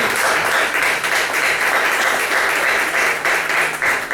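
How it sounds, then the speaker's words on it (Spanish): A church congregation applauding the Lord during a sermon: dense, continuous clapping from a large crowd in a reverberant hall, loud and sustained without pause for about four seconds. "Dale un aplauso al Señor."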